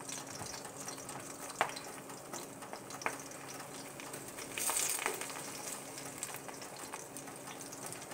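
An egg frying for fried rice in a pan over moderate heat, with a steady soft sizzle throughout, a few sharp clinks or spatula taps, and a brief louder burst of crackling partway through.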